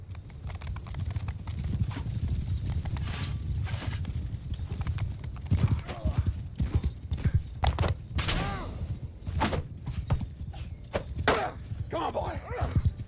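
Horse hooves clip-clopping in the Mount & Blade 2: Bannerlord video game, a rhythmic run of close hoofbeats with occasional thuds and whinnies, partly under a voice.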